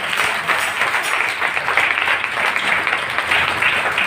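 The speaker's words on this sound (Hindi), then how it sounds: "यीशु मसीह ताली बजाएंगे परमेश्वर के लिए।" A congregation claps together at an Easter Sunday church service, a dense, steady stretch of applause that stays fairly loud for the full four seconds with no clear speech over it.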